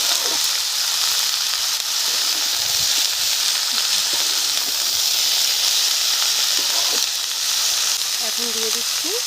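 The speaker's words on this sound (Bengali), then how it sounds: "মশলা আর মাছ একসাথে ভালো করে কষে নিয়েছি, নিয়ে তারপরে সবজিগুলো তুলে দিলাম" Dried shutki fish and fresh garden vegetables fry with spices in a pan, a loud, dense, unbroken hiss and sizzle close up, with a few faint scrapes and a brief faint tone near the end.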